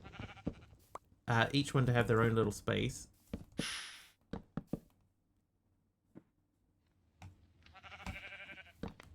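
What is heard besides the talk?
sheep bleating in the video game Minecraft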